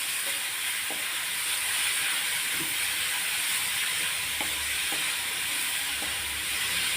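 Fish eggs sautéing in a pan on a low flame give a loud, steady sizzling hiss throughout, with a few faint clicks and taps beneath it.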